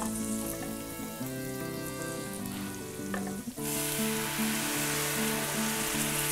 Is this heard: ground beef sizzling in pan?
yes